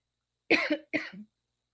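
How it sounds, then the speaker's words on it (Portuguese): Two quick coughs close to the microphone, one right after the other, in an otherwise silent room. "Desculpa, tossi aqui."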